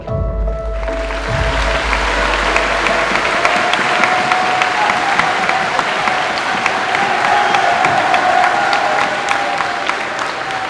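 Audience applause with some cheering at a closing ceremony, a dense, loud, steady wash of clapping from a large crowd that continues throughout, with a low rumble at the start.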